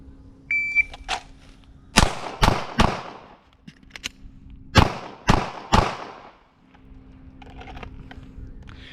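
Handgun shots in a timed New York law enforcement qualification string: three sharp, close reports in quick succession, a pause for the reload, then three more, with a faint electronic beep and hum in the background.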